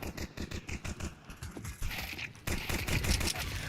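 Rapid automatic gunfire in a Counter-Strike style video game, dense repeated bursts fairly loud and continuous, with a sharper, brighter volley near the end.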